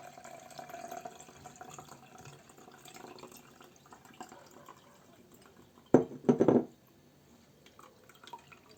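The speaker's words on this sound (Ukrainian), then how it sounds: "Ось я переливаю." Grated cucumber steeped in vodka, strained and poured as a lotion into a container; a short, close splash of trickling liquid stands out briefly against a very quiet, faint background.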